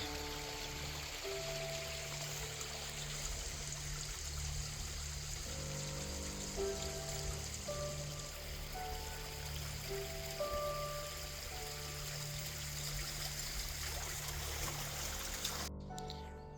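Fresh water stream flowing under a small footbridge in the countryside near Llansteffan Castle, a steady running trickle and gurgle heard nearby and continuous for the whole stretch, with faint tones behind it and no talking.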